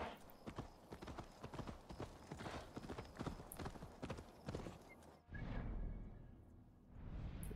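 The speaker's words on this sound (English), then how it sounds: "There's our horse." Horse hooves clip-clop at a quick, steady trot on hard ground in Assassin's Creed Valhalla, a loud, close rhythmic patter that stops abruptly before a whooshing swell and a faint snort near the end.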